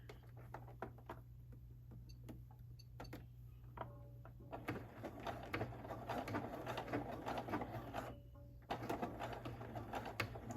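Sewing machine stitching trim slowly, a steady mechanical hum with faint rapid ticking of the needle, soft and close, with a brief change in tone partway through and no talk.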